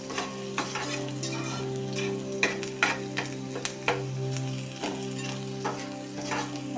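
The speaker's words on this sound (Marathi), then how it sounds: "हे हलवून घ्यायचं। आपला गॅस मोठाच आहे, पण कांदा चांगला भाजून घेणार आहे।" Onion with a pinch of turmeric fries in a pan over high gas while being stirred, a preparation for spicy vermicelli; a continuous sizzle carries repeated scraping knocks of the stirring utensil, close and clear, with no talk.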